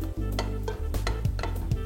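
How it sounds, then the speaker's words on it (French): Sausages sizzle in a little oil in a saucepan, giving a steady crackling hiss broken by a few sharp clinks of a utensil against the pan. "on ajoute nos saucisses."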